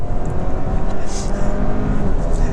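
A 2025 Kia K5 GT sedan with a 2.5-litre turbo engine accelerates hard on a wet road, a loud, steady engine drone with tyre and road rush heard close up from inside the car.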